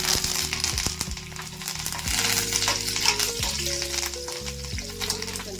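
Garlic and two Byadgi chillies fry with mustard seeds in hot oil for a tomato chutney tempering, giving a loud, steady crackling sizzle close to the mic, broken by clinks and scrapes of stirring.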